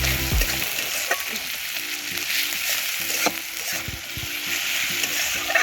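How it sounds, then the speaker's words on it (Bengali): Masala with ginger, garlic and salt sautéing in a pan, a loud steady sizzle with occasional scraping stirs close up and no talking. "একটু লবণ দিয়ে জিনিসটাকে আমি কষাবো।"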